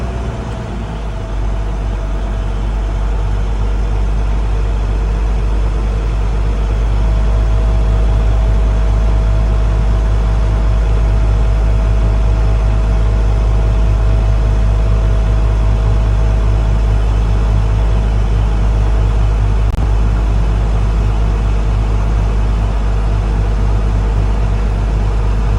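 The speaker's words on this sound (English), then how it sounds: "push my clutch in, starting my truck" Truck diesel engine idling steadily just after starting, a constant low rumbling drone with a faint tonal whine, loud and close, running alone without talk.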